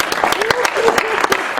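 A comedy club crowd applauds in a short, lively burst of clapping, with distinct claps standing out and a voice briefly heard over it.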